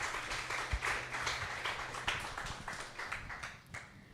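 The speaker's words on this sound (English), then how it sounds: "let's just have a round of applause for the way the Maestros is progressing" An audience at a student competition grand finale gives a round of applause. The scattered clapping is faint and distant, a soft patter running steadily for several seconds.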